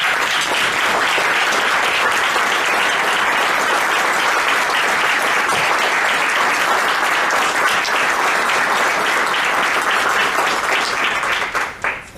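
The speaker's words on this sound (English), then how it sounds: "So if we could rise and give them a clap." Standing applause from the audience in a city council chamber honoring students, a dense, sustained wash of clapping that holds steady before fading at the very end.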